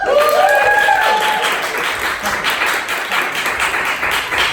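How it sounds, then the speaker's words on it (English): An improv comedy show audience claps loudly and steadily, the applause fading slightly, with a few whistles at the start. "So if you vote for Bill, please give it up for Bill."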